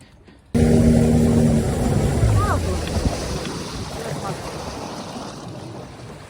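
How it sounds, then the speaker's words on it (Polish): Motorboat engine carrying anglers on a fishing trip along a river, a steady loud drone mixed with wind buffeting the microphone and water noise, starting abruptly after a quiet moment and continuing throughout. "wchodzimy na łódź, oglądajcie"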